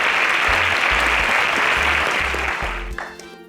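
An audience gives a sustained round of applause at a student competition grand finale in Kenya, dense clapping that fades near the end as a low musical tone enters.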